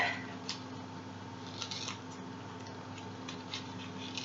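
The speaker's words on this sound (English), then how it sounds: "Then you're going to need some scissors. And you're going to cut the tip off of each leaf like this." Quiet, crisp snips of scissors cutting the tips off artichoke leaves, several separate clicks spaced irregularly over a low steady background hum.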